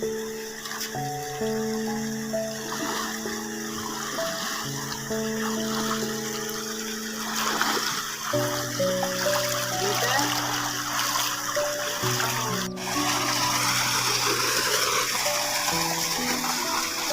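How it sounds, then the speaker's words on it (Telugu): Steady rushing and trickling of a small forest stream, continuous and fairly close, with a melodic music track playing over it throughout. "చిన్న వాగు వస్తుంది ఫ్రెండ్స్. దాటుతున్నాము"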